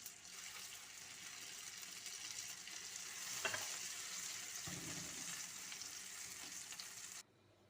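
Steady crackling sizzle of Ramadan dough rings frying in hot oil, close and continuous, with a few clinks of stirring before it cuts off.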